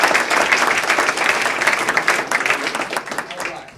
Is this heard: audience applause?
yes